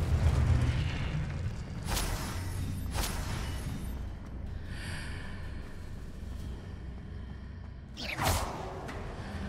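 Confringo blasting spell explosions in a Harry Potter video game: several sharp whooshing bursts, two close together early and a louder blast near the end, over a steady low rumble.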